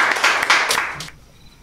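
Short burst of dense applause from a crowd at a Korean talk show with actor Jang Hyuk, fading out within about a second.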